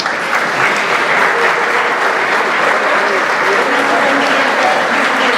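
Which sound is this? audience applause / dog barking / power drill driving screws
audience applause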